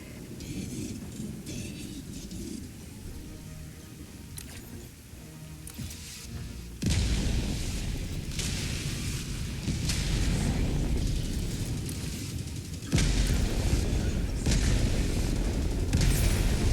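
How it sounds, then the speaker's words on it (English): Orbital barrage strikes in the video game Helldivers 2 land as deep, rumbling booms, a low roar that swells sharply partway through and again near the end, with repeated heavy blasts continuing over a thunder-like background. "Firing orbital barrage, clear the area."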